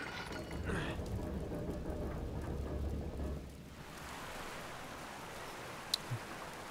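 Rain pours steadily in the Uncharted video game, with deep rolling thunder rumbling through the first half before the downpour continues alone as a soft, even hiss.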